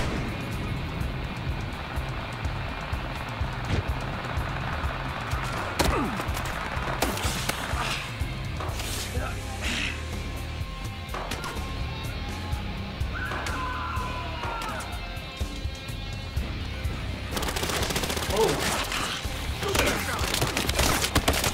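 Gunfire and action in the Battlefield Hardline video game, bursts of shots, impacts and crashes over a dense game soundscape, with louder clattering activity toward the end and brief voices in places.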